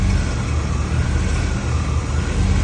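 A 1989 Chevrolet Caprice engine runs at idle nearby, giving a steady, continuous low rumble with broad mechanical noise at an even level and no speech.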